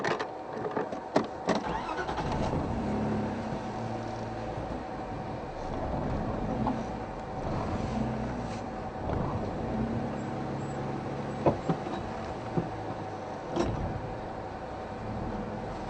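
A car driving slowly along a narrow dirt track, a steady engine drone with rumbles, creaks and a few sharp knocks and bumps from the uneven ground, heard from inside the vehicle.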